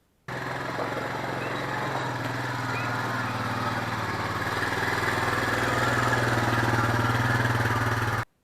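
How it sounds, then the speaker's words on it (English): A four-wheeler ATV engine runs close by at a steady mid-pitched drone, with a slight rise in loudness as it drives in, then cuts off abruptly at the end. "So let's pull the four-wheeler in here and get it loaded up."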